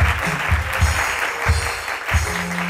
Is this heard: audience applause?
yes